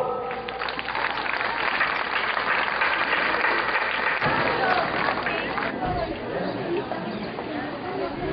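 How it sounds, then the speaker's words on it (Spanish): Audience applause for a school dance club at a preparatory school event, sustained clapping and cheering from a crowd, mixed with chatter and an announcer's voice. "Recibámoslo con un fuerte y caluroso aplauso."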